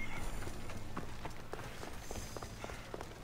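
Horse hooves clip-clopping in the video game Assassin's Creed Odyssey, a faint, steady series of light hoofbeats over a low ambient bed.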